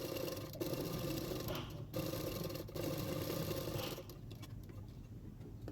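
An electric sewing machine stitches a line along the edge of a blouse's lining fabric, a loud, close, continuous whirring rattle with brief pauses, then running on more softly without any voice.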